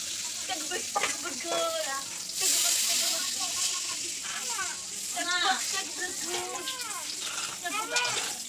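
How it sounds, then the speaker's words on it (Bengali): Bay leaves sizzle and spit in hot oil left from frying crab, a close, steady frying hiss that runs beneath almost continuous talking. "ওই তেলেতেই তেজপাতা দিল।"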